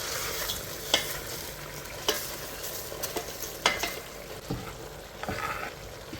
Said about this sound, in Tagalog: At ito na nga, kumukulo na ang ating nilulutong manok.